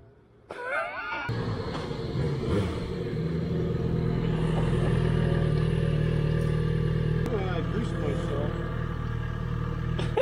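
Several 75-horsepower motorcycle-style scooters start up and idle together, a steady loud engine rumble swelling after a sharp start, with people talking over the running motors throughout.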